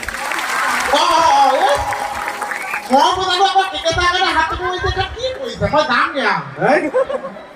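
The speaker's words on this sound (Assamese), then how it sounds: "বহুত বহুত ধন্যবাদ এটা ডাঙৰ হাত চাপৰি মোৰ কাৰণে" An audience at a live stage comedy show applauds and laughs, with a burst of clapping at the start, then chuckles and a voice talking over the crowd.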